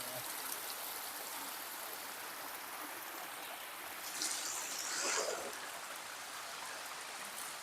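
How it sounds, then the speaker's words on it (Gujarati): Water rushing over Bagad dam, a steady broad hiss of flowing water throughout, with a brief louder splash near the middle. "કેવું જોરદાર પાણી, એક નંબર એક નંબર"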